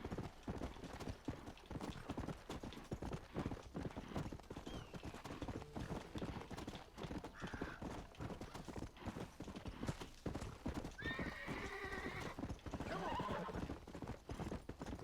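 Steady clip-clop of horse hooves trotting throughout in Red Dead Redemption, with a couple of whinnying neighs rising near the end, all over a busy game background.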